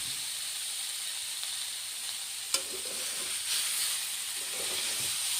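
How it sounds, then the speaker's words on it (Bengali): Broccoli and potatoes fry in a pan as water is poured in, bringing a sudden burst of sizzle and hissing steam that settles into a continuous loud bubbling fry, with a brief clink early on. "আমি জল দিয়ে দিচ্ছি এখন"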